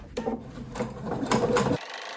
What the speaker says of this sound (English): And then I'm going to go ahead and sew the rest of the seam.